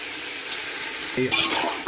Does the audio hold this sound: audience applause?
no